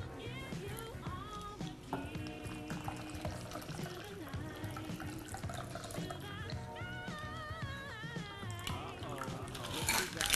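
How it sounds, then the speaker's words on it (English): A chilled cosmopolitan cocktail is poured from a shaker into a martini glass, a continuous liquid stream heard under loud background music, with a brief rattle at the end. "Pour the contents into your martini glass"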